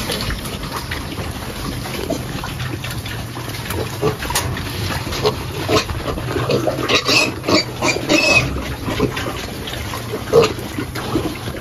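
Sows and piglets grunting and snuffling amid continuous wet, sloshing feeding noise, with occasional louder squeals and clatter, close by.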